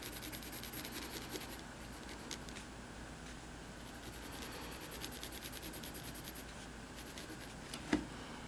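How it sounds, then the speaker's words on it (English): Pencil shading on paper while drawing a dinosaur, a quiet, steady rubbing and scratching of graphite strokes, close and faint, with a small tap near the end. "So I'm gonna put a lot of shading in."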